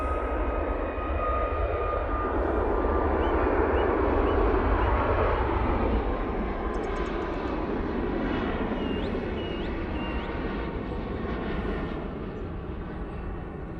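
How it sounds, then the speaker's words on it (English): A Ryanair Boeing 737 MAX 8 takes off at Manchester Airport in low visibility, its jet engines producing a broad, sustained roar that swells and then gradually eases as it climbs away. "Ryanair 737 MAX 8 now on the roll."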